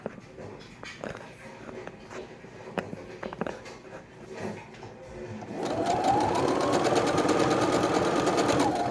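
A Brother sewing machine runs steadily through a decorative stitch, its fast mechanical whir starting partway in and continuing loud to the end after a stretch of handling noises and light movement.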